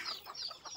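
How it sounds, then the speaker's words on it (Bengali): Chickens let out to feed, squabbling over food, give a quick run of close clucks and short squawks. "এবার মুরগিগুলোকে ছেড়ে দিলাম।"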